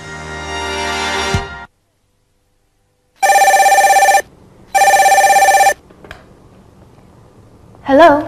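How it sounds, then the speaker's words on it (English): An office telephone rings in two long, loud electronic bursts separated by a short gap, with a brief burst of other sound before them and a voice at the very end. "Answering the phone."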